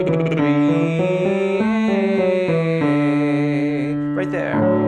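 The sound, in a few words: singer's lip trill from E to A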